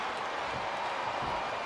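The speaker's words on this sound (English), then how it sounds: "It sounds like this capacity crowd has something on their minds" A capacity crowd roars and cheers at a wrestling arena in the video game WWE SmackDown vs. Raw 2007, a steady, faint, distant wash of noise with no clear peaks.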